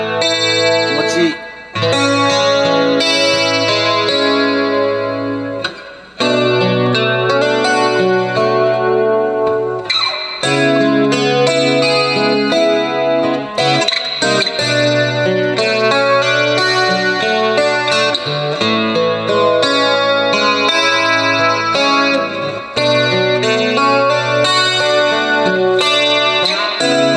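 Strummed and picked Bromo BAT-2MCE solid mahogany-top acoustic guitar drenched in reverb with a shimmering chorus effect, playing continuously with a lush, spacious tone.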